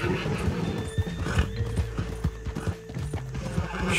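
Horses galloping in Red Dead Redemption 2, a quick clatter of hooves drumming close with a whinny and jingling tack over a low rumble of movement, no speech.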